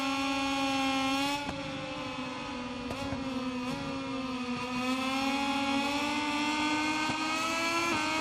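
Racing motorcycle engine in the MotoGP 21 video game at the Assen circuit, a loud, steady high-pitched whine that holds near constant, with brief dips and rises as gears shift and the throttle varies, alone without talk.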